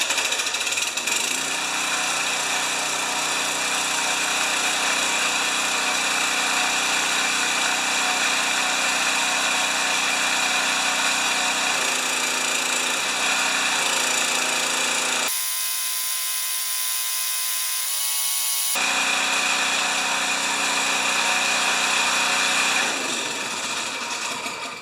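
Gasoline engine on a Homelite pressure washer with a corroded tank starts up and runs at a loud, steady, rough clatter for most of the stretch, cutting out briefly once before catching again and running on, with no talking.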